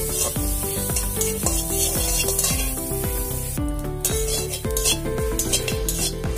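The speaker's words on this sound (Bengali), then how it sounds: "চিংড়ি মাছ বাটার জন্য পেঁয়াজ লঙ্কা কেটে নিয়েছি, এখন এগুলো শুকনো খোলাতে ভেজে নেব।" Chopped onion and green chilli being dry-roasted in a pan without oil, with continuous close scraping and clinking of a utensil against the metal in quick repeated strokes over a faint sizzle.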